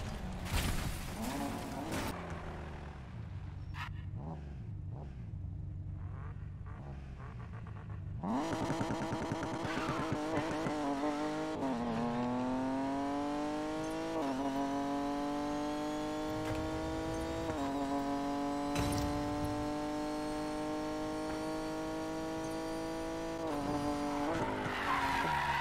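A race car in the Need for Speed Payback video game runs without nitrous, its engine rising through the gears with tire skids at the start, then a steady, loud drone with repeated upshifts over about 25 seconds, no talking.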